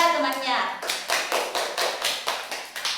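Classmates in a physics classroom clap for a fellow student, a short run of about a dozen close, distinct claps in a loose steady beat, following a brief spoken moment at the start.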